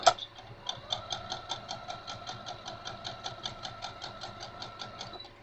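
A sewing machine stitches strips for a rag quilt, a steady rhythmic run of clicking needle strokes with a mechanical hum, close and moderately loud.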